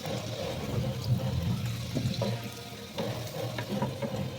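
Potatoes fry in oil previously used for frying fish, giving a continuous close sizzle and bubbling crackle that stays even throughout, with no voices.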